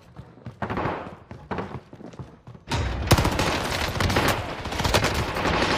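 Gunfire in Call of Duty Warzone on Rebirth Island: scattered single shots give way after a pause to a loud, sustained burst of rapid automatic fire with thuds, all close and with no talk.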